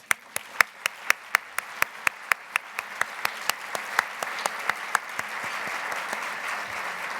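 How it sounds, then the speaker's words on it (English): An audience at a maternal care summit applauds its steering committee, beginning with sharp, evenly spaced loud claps that blend into a softer, denser wash of applause. "We want to give you a round of applause."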